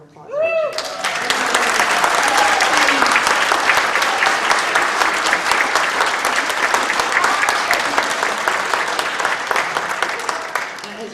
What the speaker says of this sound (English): I'd like to give a special thank you and a round of applause